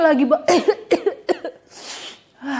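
A voice imitates a few coughs, short throaty bursts broken up by brief pauses, close to the listener.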